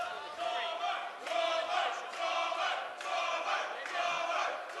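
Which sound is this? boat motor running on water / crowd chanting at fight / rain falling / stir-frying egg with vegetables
crowd chanting at fight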